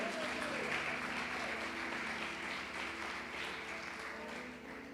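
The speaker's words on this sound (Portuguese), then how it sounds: "Uma salva de palmas para Jesus." A church congregation claps together in a steady, sustained wash of applause during a worship service, with voices faintly mixed in beneath the clapping.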